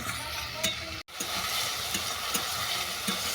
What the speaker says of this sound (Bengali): এরপর এটাকে আমি ভালো করে কষে নেব।